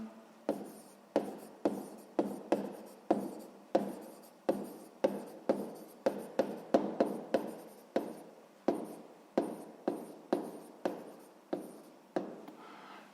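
A pen writes by hand while a sixth-grade math exercise is being solved, giving a steady series of short scratchy strokes, each starting with a tap and fading, repeating regularly and close up for over ten seconds.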